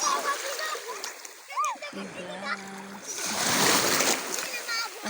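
Children splashing while swimming in clear seawater off Mindoro, a broad wash of splashes and water noise with a voice and adult speech over it, fairly near.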